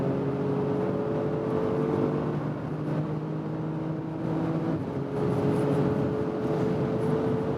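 A 2016 Porsche Cayenne GTS with a turbocharged V6 accelerates hard from 100 km/h, its engine droning steadily and climbing in pitch through the gears under heavy wind and road noise, heard from inside the cabin with no talking.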